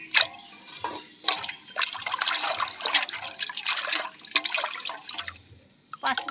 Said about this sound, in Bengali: করমচাগুলো ধুয়ে নেব